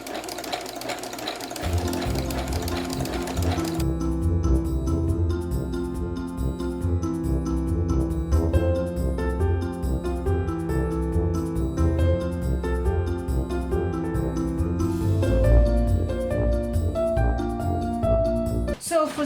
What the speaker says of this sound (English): I'm doing a zigzag all along the edges just to stop from fraying.